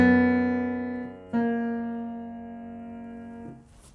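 Piano playing a simple easy-arrangement part from a dance-pop song: a sustained chord rings and decays, a second chord is struck near the middle and held, then fades with a soft release, with no voices.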